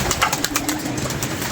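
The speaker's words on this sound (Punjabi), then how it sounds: "ਬਾਕੀ ਜਿਹੜੇ 27 ਕਬੂਤਰ ਨਾ ਉਹ ਜਾ ਰਹੇ ਨੇ ਮਾਸ਼ਾਅੱਲਾ।" A flock of pigeons released outdoors in Lahore, a dense flurry of fluttering wingbeats and soft bird sounds, moderately loud and continuous, with no talking.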